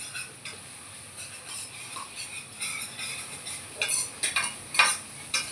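Chicken frying in a pan for a semi-gravy curry, stirred steadily so a soft sizzle runs beneath scraping utensil strokes that grow louder and sharper toward the end, with no voices.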